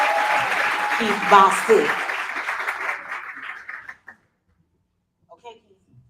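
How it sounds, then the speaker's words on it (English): An audience at a Toastmasters meeting claps steadily for about four seconds as a man steps up to speak, with a few voices and a chuckle mixed in, then the room falls nearly silent with brief faint sounds. "Y'all clap your hands for Keith."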